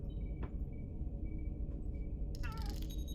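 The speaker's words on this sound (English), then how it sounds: "I don't know if you heard my cat just then" A pet cat gives a few short meows indoors, faint against a low background rumble, followed by a brighter cluster of higher-pitched cries near the end.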